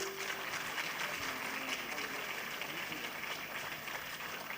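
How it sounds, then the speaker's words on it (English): Applause from a conference audience at an international gathering of chief justices, a faint, thin and steady patter of scattered clapping heard from a distance, low in level throughout. "That was a very feeble applause,"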